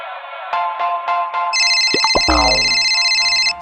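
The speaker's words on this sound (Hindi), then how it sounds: "स्लेंडरिना दीदी का फोन।" A loud electronic phone ringtone plays a melodic sequence of tones, joined by a high sustained ringing and a swooping synthetic sound effect.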